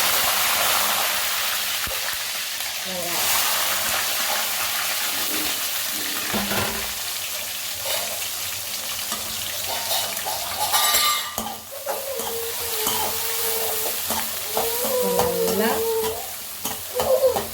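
Garlic sautéing in a pan gives a steady sizzle with scraping and stirring sounds for a long stretch. A voice is heard faintly now and then toward the end.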